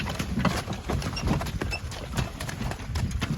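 Draft horses' hooves, a pair of working mares, clip-clop in a steady, brisk rhythm on a hard surface, fairly close, over a low outdoor background.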